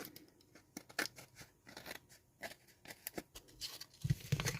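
Scissors snip around a sticky Valentine's hanger decoration in quick, quiet, close cuts with an irregular rhythm and faint paper rustling between them.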